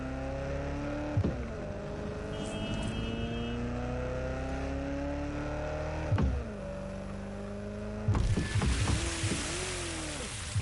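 A car engine in the video game Watch Dogs Legion accelerates through repeated gear shifts, each rising whine dropping sharply at the change, steady and close with no talk.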